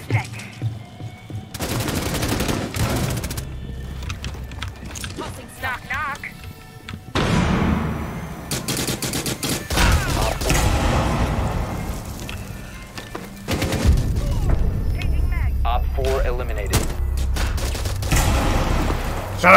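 Gunfire in Rainbow Six Siege crackles in dense bursts and volleys, with heavy thumps and booms between them. Voices talk over much of the shooting.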